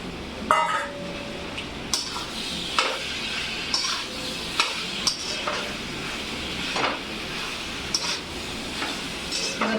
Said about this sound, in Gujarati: હવે આપણે એને મિક્સ કરશું. બોઇલ પાસ્તા નાખશું.